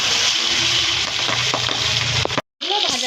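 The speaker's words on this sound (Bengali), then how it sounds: "নুন হলুদ দিয়ে মেখে রাখা মাছগুলোকে একটা একটা করে গরম তেলে ছেড়ে দিচ্ছি।" Salt-and-turmeric-coated pabda fish slipped one at a time into hot mustard oil, a loud continuous close sizzle with a few splashy bursts and a brief dropout near the end.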